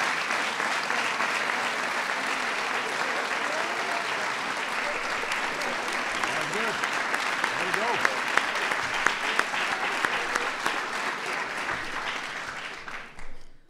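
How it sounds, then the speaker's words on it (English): A crowd applauds the UConn Huskies women's basketball team at a White House event honoring the NCAA champions, sustained dense clapping that fills the room before fading out at the end. "that deserves a big round of applause"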